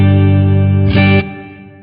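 An electric guitar plays a sustained clean chord through a Marshall JMD:1 amp on a clean preamp with the reverb set high, ringing loud and full, then a brief bright strum before the tone decays into reverb.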